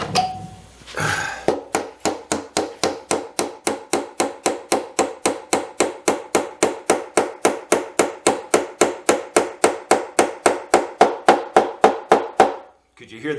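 A steady run of about forty quick hammer blows drives a part into a 1919 Gibson L1 guitar resting on a folded towel. The knocks are crisp, evenly paced and close, with a brief handling noise before they begin.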